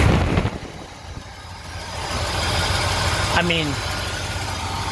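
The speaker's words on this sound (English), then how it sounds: "this engine is a Cadillac 472, so it's 472 cubic inches" A Cadillac 472 V8, 472 cubic inches, idles steadily in a relatively complete older car, a low continuous rumble close by with someone talking over the start.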